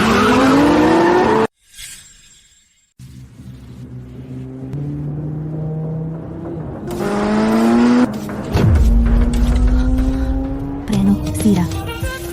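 A car racing at speed through city streets with tires skidding, a loud engine roar broken by a short gap, then renewed acceleration and screeching tires, with voices speaking over the driving.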